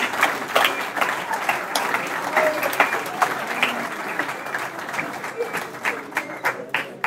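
An audience at a football club's 97th anniversary celebration applauds in a sustained, dense burst of clapping that gradually thins into scattered individual claps, with some talk mixed in.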